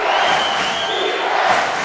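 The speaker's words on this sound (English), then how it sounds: "Crowd chanting defense" Basketball arena crowd at an FAU versus UAB men's game chanting defense, a dense, steady roar of many voices sustained throughout without a break.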